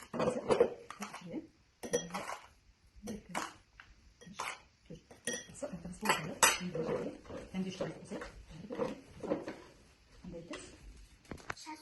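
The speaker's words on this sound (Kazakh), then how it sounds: "қантымызды салып аламыз, ас қасықпен" Sugar spooned with a metal tablespoon into a row of glass containers, one to four spoonfuls each, gives repeated clinks and scrapes of spoon against glass, steady and close, under a speaking voice.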